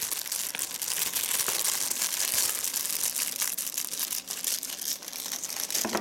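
A plastic tea packet being cut open, a continuous close crinkling of thin plastic with scattered sharper crackles and rustles, fairly loud and steady throughout, no speech.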